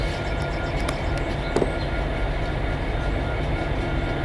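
An eastbound Ennis freight train, led by Ennis locomotives 9592, 8848 and 9810, rolls slowly past in Pennsylvania with a steady loud rumble, rhythmic wheel clatter and a brief metallic squeal midway.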